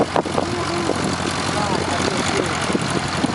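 A propeller airplane on a runway during takeoff at an airfield, a loud steady engine roar heard outdoors, with people talking over it.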